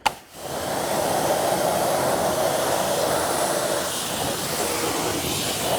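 Steady spray of rinse water washing Iron Buster wheel cleaner off the inside of a wheel barrel, a close, even hiss that holds at constant loudness for several seconds after a brief start.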